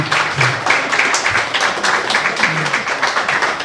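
Live audience applause at a podcast event, PodRennes 2018: a steady, dense wash of many hands clapping close and loud, continuing unbroken for several seconds.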